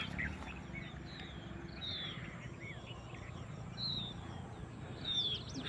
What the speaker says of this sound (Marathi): पक्ष्यांची किलबिलाट ऐकू येते.